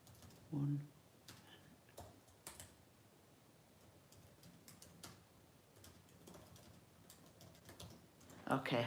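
Soft, irregular keystrokes on a computer keyboard, close and quiet, with a louder clatter at the end and a brief voice near the start.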